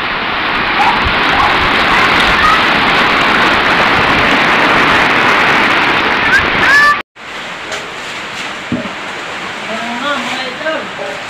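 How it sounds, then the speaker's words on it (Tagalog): Heavy floodwater rushing into a house during Typhoon Kristine's rain, a loud continuous roar and splash that cuts off abruptly and resumes as a somewhat quieter wash with splashing. "At tuloy pa rin ang pasok ng tubig. Pati dito sa bahay."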